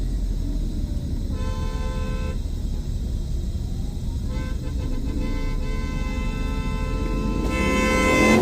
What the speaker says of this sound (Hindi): गाड़ी आगे चल रही है, हॉर्न पे हॉर्न दिए जा रहा है